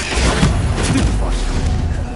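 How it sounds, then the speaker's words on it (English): A Stupefy spell cast in Hogwarts Legacy lands with a deep booming thud amid a dense, continuous wash of game effects, with a voice talking over it. "Stupefy!"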